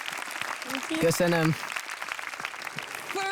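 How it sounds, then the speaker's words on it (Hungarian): An audience gives a standing ovation on the Hungarian music talent show Virtuózok: steady, moderately loud clapping under a voice. "már is állva tapsol a közönség"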